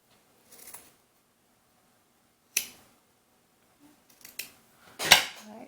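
A few sharp, isolated snips of scissors cutting fabric for a doll's winter cap, separated by long near-silent gaps, close and fairly quiet.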